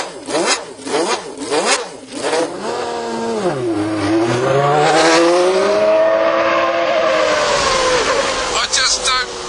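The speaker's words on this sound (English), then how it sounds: "I am in Alain Prost's 1990 World Championship winning Grand Prix Ferrari." Alain Prost's 1990 championship-winning Ferrari Formula One car: a loud, high-pitched engine blips several times, drops in pitch, then rises into a sustained, screaming acceleration, heard up close.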